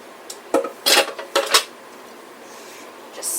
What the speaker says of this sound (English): I'm going to add the steak bites and mushrooms into the pan